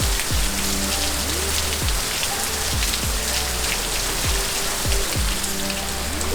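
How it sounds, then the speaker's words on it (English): Heavy rain pours down steadily in Bali during the rainy season, a dense, constant hiss of drops drumming on surfaces, with no voices. "Oh boy, that's a lot of rain."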